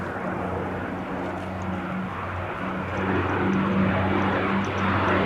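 Vintage Bristol Blenheim twin-engine monoplane flying at an airshow, a steady droning piston-engine roar with propeller hum that swells slightly louder as it passes, distant but clear, with no talk.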